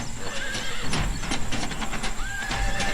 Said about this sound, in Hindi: घोड़ा हल्का हिनहिनाता है